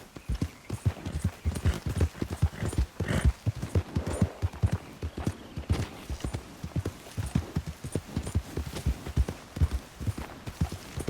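A horse galloping in the video game Red Dead Redemption 2 makes loud, rapid, rhythmic hoofbeats that run steadily and close throughout.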